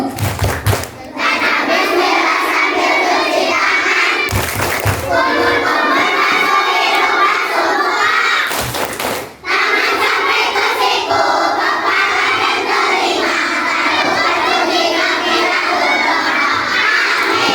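Schoolchildren at SD Muhammadiyah 4 chant the tepuk wudu clapping routine as a loud, continuous group shout with rhythmic hand claps and thumps, carrying on for many seconds with only brief dips.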